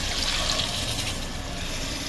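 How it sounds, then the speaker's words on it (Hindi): About two glasses of water splash steadily into a cooking pot of spiced mutton and urad dal, a continuous close pouring rush with no voices. "2 गिलास के करीब पानी ऐड कर देते हैं"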